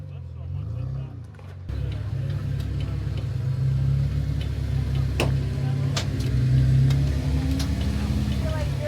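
An off-road vehicle creeping along an off-camber wall obstacle: a steady low engine drone with occasional ticks and knocks, close and fairly loud, with some voices mixed in.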